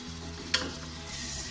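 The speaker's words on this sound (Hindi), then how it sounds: "अभी इसे अच्छे से 1 मिनट तक फ्राई कीजिए।" Masala with softened tomatoes, red chili and coriander powder fries in oil for a mushroom biryani. A close, steady sizzle is broken by one quick scrape of a stirring spoon, and there is no talking.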